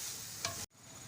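Shimla mirch keema, capsicum with minced meat, roasting in a pan over high heat gives a steady, close hiss of sizzling that cuts off abruptly after about a second.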